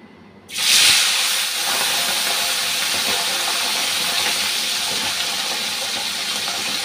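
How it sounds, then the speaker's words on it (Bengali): Fish dropped into hot oil bursts into a loud, steady sizzle after half a second of quiet, the hiss holding strong and continuous to the end with no voices. "গরম হয়ে গেছে, মাছটা ভাজতে দিয়ে দিচ্ছি।"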